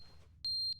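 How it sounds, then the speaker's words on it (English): A single sharp, high-pitched electronic beep from a smoke alarm in the video game Stanley's Deluxe, brief and piercing over quiet low background hum. "Smoke alarm."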